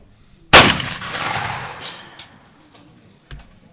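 A single loud shotgun blast in an Olympic trap final, fired close with a sharp onset and a long rolling decay, followed by a fainter distant shot near the end.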